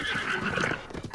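A horse taken from bokoblins in the video game Breath of the Wild gives a short, clear whinny, heard alone at close range.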